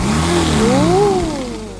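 A vacuum cleaner motor pulling dust out of a fabric sofa during a cleaning job, a loud steady roar with a whining pitch that climbs and then slowly falls, close and continuous with no talk.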